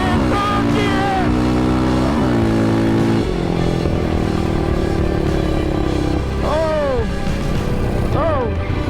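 A Yamaha Raptor 700 ATV with a blown head gasket revs hard and pulls through the gears, its loud, close engine note climbing, dropping at each shift and climbing again, with shouting voices over it.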